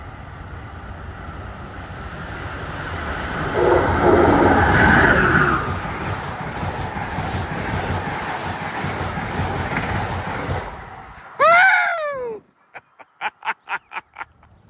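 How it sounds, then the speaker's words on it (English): Amtrak Northeast Regional train hauled by ACS-64 electric locomotive 654 roars past at Canton, Massachusetts on the Northeast Corridor, a long sustained rush of wheels and air, then a loud two-tone horn blast and a rapid string of clicking wheel beats. "Our first train is a Northeast Regional powered by ACS 64 locomotive, number 654."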